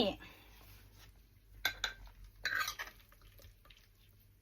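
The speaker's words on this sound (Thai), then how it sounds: "เดี๋ยวจะตักให้ดูนะคะ" Ladle clinks and scrapes against a pot while Thai eggplant soup made with Japanese dried fish powder is scooped out, a few short close metallic knocks and liquid sloshes over a faint kitchen background.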